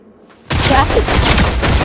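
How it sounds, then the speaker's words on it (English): Assault rifle fire in Fortnite Chapter 7 Season 1: a loud, rapid burst of shots rings out after a brief quiet moment and rattles on continuously to the end. "I shoot him with my AR, do 27 damage"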